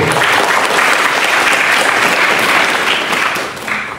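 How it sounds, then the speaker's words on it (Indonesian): Loud, dense applause from a crowd at a scout camp opening ceremony at a vocational school, continuous clapping that stays strong before easing slightly near the end. "Tepuk tangan dulu."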